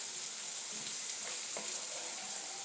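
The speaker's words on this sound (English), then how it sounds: "cook that for 15 seconds with the oil" Enchilada sauce ingredients frying in about four tablespoons of oil, a faint, even sizzling hiss lasting a couple of seconds, with a few soft stirring clicks and no voices.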